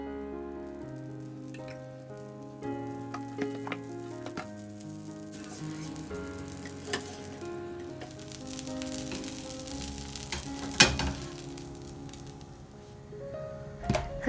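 Leftover sambar reheats in a pan at home, giving a soft, continuous sizzle and bubbling with occasional spoon clinks and stirring noises, fairly quiet throughout and with no talk.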